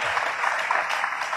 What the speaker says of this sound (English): could I have like a huge round of applause?